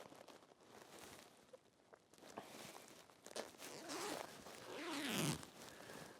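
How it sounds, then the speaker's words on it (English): A jacket worn over a sweatshirt for hunting in a ground blind is zipped up. Quiet rustling of clothing leads into one fairly faint zip pulled close by, with no talk. "Zip this up."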